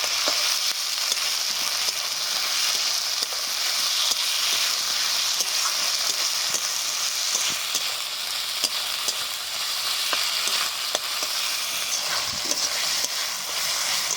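Ginger, garlic and chopped tomato masala stir-frying in a pan for chicken liver and gizzard curry: a steady, close, hissing sizzle with occasional soft stirring scrapes, without any voices.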